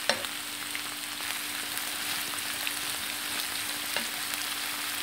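Courgettes cooking with a little water in a covered saucepan give a steady, soft sizzle and bubbling hiss with faint occasional pops, quiet and continuous without any talk.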